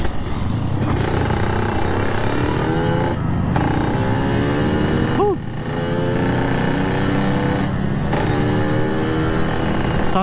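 A Yamaha RX King two-stroke motorcycle is ridden along, its engine droning loudly and close with repeated rising revs between gear shifts, wind rush over the top and a rider talking at times.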